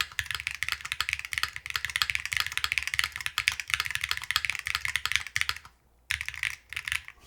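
Rapid typing on a Hall-effect mechanical keyboard with an ABS spacebar, a dense close-up clatter of keystrokes with a brief pause near the end before resuming.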